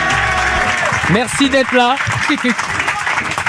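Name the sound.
studio audience applause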